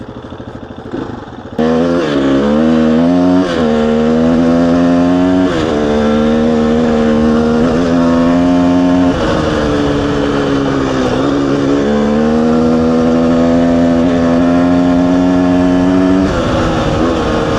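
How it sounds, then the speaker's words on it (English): A small 250cc motorcycle engine kicks in loudly and revs repeatedly, its pitch climbing and dropping in waves as it winds out, close and sustained. "I just love how the 250s rev out really nice."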